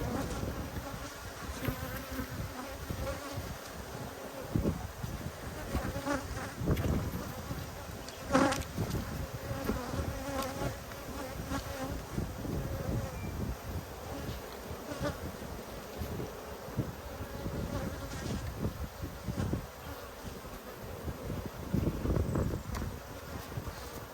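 Honey bees swarm over a hive frame in an Australian apiary, a thick continuous buzz filling the whole stretch, close and steady, with occasional bumps and handling knocks cutting through.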